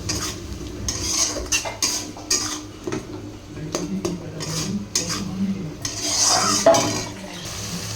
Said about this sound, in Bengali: দেখো মশলা, নুন, হলুদ সব দিয়ে দিয়েছি, ভালো করে কষিয়ে নেব।